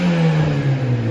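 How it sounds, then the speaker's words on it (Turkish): Oil-burning Opel Astra H station wagon engine held at raised revs, a steady close mid-pitched hum with a slight waver over about one second. "Gaz ver bakayım, duman atıyor mu?"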